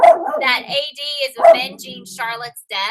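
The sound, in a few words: dog barking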